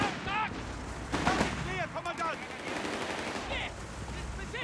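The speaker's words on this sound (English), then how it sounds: "taking small arms fire" Small arms fire crackles in a Company of Heroes 3 multiplayer battle with the Afrika Korps, rapid bursts of gunfire and distant booms over a rumbling battlefield while soldiers' voices shout orders.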